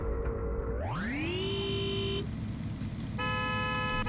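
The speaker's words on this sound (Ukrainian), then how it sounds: "Я також можу тобі побібікати, і що з того?" A car horn toots, first with a rising tone and then as steady harmonic honks, over a constant low rumble of traffic or engine.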